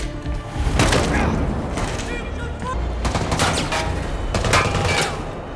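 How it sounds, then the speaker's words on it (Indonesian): SWAT officers and a bomber trade gunfire in a shootout, with dense repeated shots and bursts that boom loudly throughout while a narrator talks over them. "Karena si pelaku yang dijuluki Hunter melepaskan tembakan"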